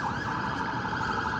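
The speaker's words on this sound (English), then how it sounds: "Sirens going on over there." An emergency vehicle siren wails loudly and continuously along a downtown city street, filling the air without any talk over it.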